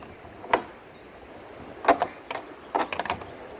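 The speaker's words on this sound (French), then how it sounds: "Je resserre tout sur les boulons pour les garder serrés." Bolts being tightened on houseboat pontoon boards give a few faint, scattered metallic clicks and ratcheting knocks, quiet and close over a low background rumble.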